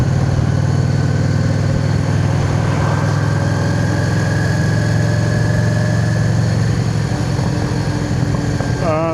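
A motorbike engine drones steadily while riding up the eastern side of Windermere, a loud constant hum with wind rush and no pauses.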